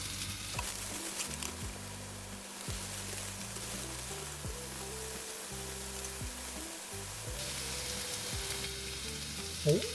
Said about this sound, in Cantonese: 好，而家將啲珍珠粟米都擺埋落去煎。